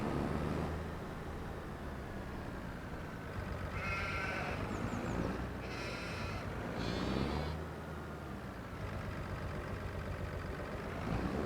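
Sheep in the Farming Simulator 25 game give a few short bleats in the middle of a steady engine and ambient drone, with no talk over them.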